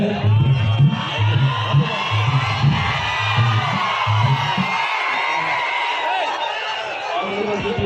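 A large crowd at a Khesari Lal Yadav stage show in Nepal cheers, whoops and shouts continuously, a loud dense roar with voices rising and falling together.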